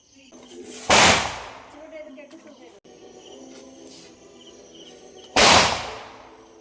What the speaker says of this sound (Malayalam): അതിലോട്ട് വെച്ച് നമുക്ക് ഈ പടക്കം കത്തിക്കാം.